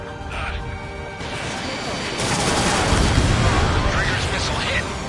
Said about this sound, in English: Trigger's missile hit.